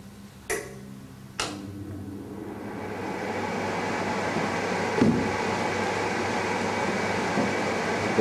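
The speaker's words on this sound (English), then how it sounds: "The blower has been turned on" A blower fan switched on during a ventilation test of a monitor roof with turbo ventilators, giving a steady broadband whoosh that builds and holds after two sharp clicks near the start.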